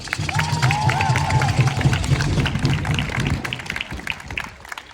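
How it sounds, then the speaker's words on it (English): Crowd at an Abolish ICE protest in Riverside, California claps and cheers in a broad, continuous wash of applause, with scattered whistles rising above the noise before it gradually thins toward the end. "So give yourselves a round of applause."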